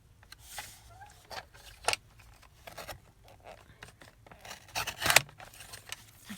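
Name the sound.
cutting down ledger paper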